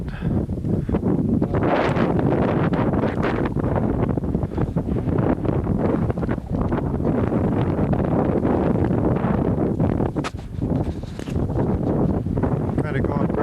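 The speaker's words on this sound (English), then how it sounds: "The wind's blowing kind of hard." Strong wind blows across a high ridge in the Steens and Hart Mountain country, roaring and buffeting the microphone loudly and without a break throughout, with gusty rumbles swelling and easing.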